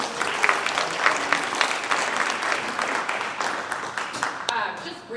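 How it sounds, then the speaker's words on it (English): Parent-night audience in a school hall applauding, a sustained patter of many hands clapping, fairly close and even, tapering near the end. "Let's give her a round of applause."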